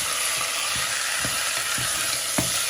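Chicken feet fry and brown in a pot with steady close sizzling throughout, broken by a few soft knocks of stirring and no voices.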